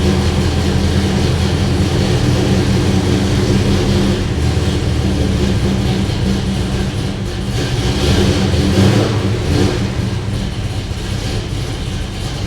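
A car engine from a Plymouth Road Runner idles steadily, a loud continuous low rumble with an even exhaust drone and no voices over it.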